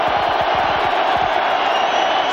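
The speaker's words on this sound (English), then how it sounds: "Crowd trying to make it as difficult as possible down there for Stewart." A college football stadium crowd at a Colorado versus Nebraska game roars continuously, a loud, dense wall of cheering and yelling that stays constant throughout, with a commentator's voice faintly underneath.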